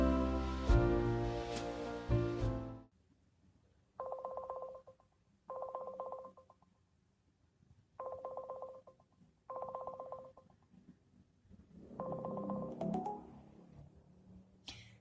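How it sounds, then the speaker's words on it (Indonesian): An outgoing phone call rings out: after a short burst of music, a steady ringback tone repeats in evenly spaced pulses, with a faint muffled voice near the end. "Jadi sekarang aku telepon aja ya."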